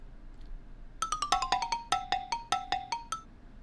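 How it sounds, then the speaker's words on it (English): Minecraft note blocks sounding as bone-like rattles: a quick run of short, bright clicky tones, some stepping down in pitch, clustered then spaced across a few seconds, fairly quiet and alone with no voices. "trying to make rattling bone sounds"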